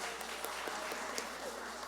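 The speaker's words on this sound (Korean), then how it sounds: "우리 격려하며 축복하며 우리 박수, 옆에 있는 분들을 향해서도 박수하겠습니다." A church congregation applauds together, a steady wash of many hands clapping that fills the room evenly, with a few louder claps standing out.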